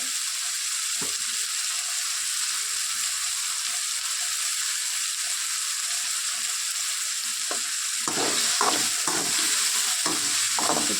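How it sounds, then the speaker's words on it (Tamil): Onions and chopped tomatoes sizzle steadily in a pan for a home-cooked pakoda kuzhambu, with a spoon scraping and stirring in bursts near the end. No one speaks. "வெங்காயம் வதங்கிருச்சு இப்போ இதில் வந்து நான் கட் பண்ணி வச்சுருக்க தக்காளி சேர்த்துக்கிறேன்"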